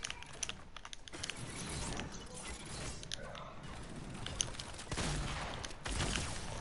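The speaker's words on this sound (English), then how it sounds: "Double headshot, Max." Gunfire in a Fortnite Creative 2v2 match, a dense run of sharp shots and clattering bursts over steady game noise, with a louder pair of hits near the end.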